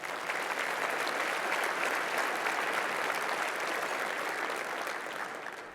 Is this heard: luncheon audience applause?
yes